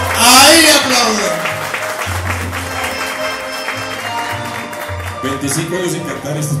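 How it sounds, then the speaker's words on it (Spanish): An audience at an 80th-birthday tribute concert applauds while a live band plays on, the clapping diffuse and moderately loud, partly buried under the music and a voice. "¡Ahí aplauden!"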